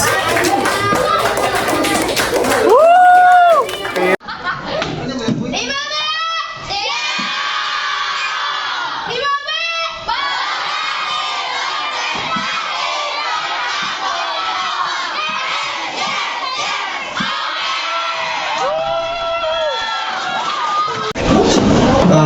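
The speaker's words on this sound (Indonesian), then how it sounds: "Tepuk tangan semuanya." A community gathering of a student service group erupts in shouting, cheering and clapping from a crowd, with loud excited voices and bursts of applause rising and falling throughout.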